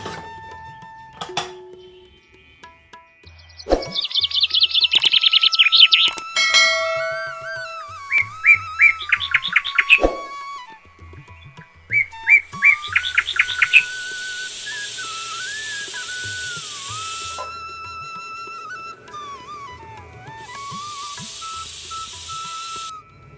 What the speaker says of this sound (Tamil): இப்போ 4 விசில் வந்துருச்சு.